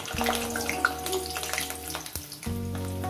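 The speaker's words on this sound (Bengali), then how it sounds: "আমার তেলটা গরম হয়ে গেছে, আলুগুলো আমি দিয়ে দেবো" Potato pieces drop into hot oil in a pan while making Bengali bata fish curry, giving a steady, close, bubbling sizzle over a low hum, with a brief dip before the hiss returns.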